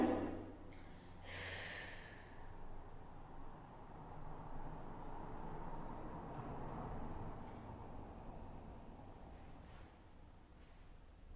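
A long, steady exhale of breath during a hypopressive exercise follows a sharp nasal snort at the start, then airy breathing continues softly and close for several seconds.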